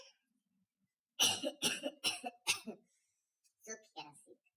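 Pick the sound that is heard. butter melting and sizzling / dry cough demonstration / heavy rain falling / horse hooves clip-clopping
dry cough demonstration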